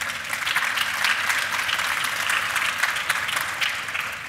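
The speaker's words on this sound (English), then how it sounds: "Go ahead, please applause." A town hall debate audience breaks into sustained applause, a thick, even roar of many hands clapping that holds steady before easing slightly at the end.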